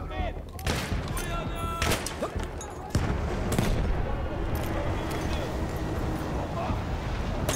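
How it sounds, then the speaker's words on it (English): Battlefield 1 gameplay fills with rapid gunfire bursts and booming grenade explosions, close and loud, with a sharper blast partway through and continuous combat noise after it, while a voice speaks over the action. "Time to just start lobbing grenades"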